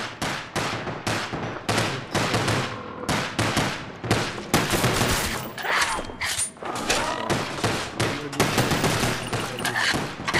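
Rapid gunfire in Call of Duty Black Ops Zombies: dense volleys of loud shots and thuds, close and nearly continuous, with brief breaks between bursts.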